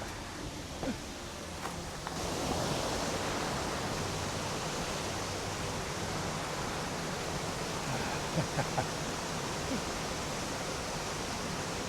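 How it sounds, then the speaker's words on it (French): Steady broadband roar of a waterfall in Kabylie, dense and continuous, swelling slightly after the first couple of seconds and holding level, with a few faint knocks and rustles close by. "Il y avait donc vraiment une cascade."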